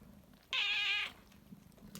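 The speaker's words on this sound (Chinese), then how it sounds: "喵喵喵的叫" A tabby cat gives a single clear, loud meow of about half a second, close by against a quiet room.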